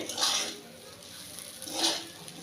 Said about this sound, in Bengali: তেলটা দেওয়ার পর অনবরত এইভাবে আমি নাড়াচাড়া করব যাতে তলায় না লেগে যায়